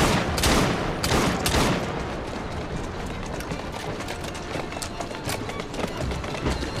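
A horse gallops through a Victorian-era street in the Assassin's Creed Syndicate video game, its rapid hoofbeats pounding steadily beneath loud bursts of gunfire and chaotic action sound.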